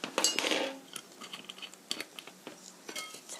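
Raw eggs being stirred with a utensil in a bowl for Korean steamed eggs, light clinking taps and scraping, quiet and irregular, with no talking.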